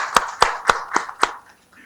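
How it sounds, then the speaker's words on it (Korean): Five distinct, evenly spaced loud claps from a small audience closing a regional community forum meeting, sharp and close, then quiet. "큰 박수와 함께 회의를 마무리하도록 하겠습니다"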